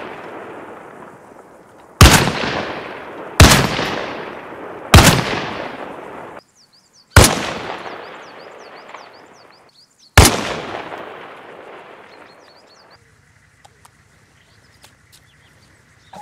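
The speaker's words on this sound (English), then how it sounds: "Assume the gunner position and man the heavy machine gun." Heavy machine gun in the video game Arma Reforger fires five loud, booming single shots a second or so apart, each followed by a long decaying echo, with faint chirps and a low hum between.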